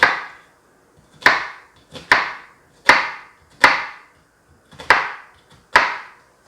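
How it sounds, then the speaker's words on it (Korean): A knife strikes a cutting board in six sharp, evenly spaced chops while mincing onion for Korean assorted holiday pancakes, each hit crisp and close with a short decay, no talk. "양파도 이렇게 해서 이렇게 다져주시면"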